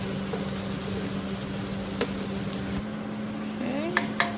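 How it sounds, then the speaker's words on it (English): Garlic and ginger added to a frying pan for vegetable fried rice, a steady soft sizzle with a low hum beneath and a few light scrapes of stirring near the end. "now it's time to add our garlic and ginger in"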